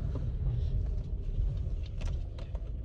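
A learner driver's car moving off as the clutch is let out, a low idling engine rumble that swells slightly and stays close and steady, with a few faint clicks.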